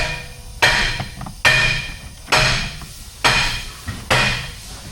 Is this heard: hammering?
yes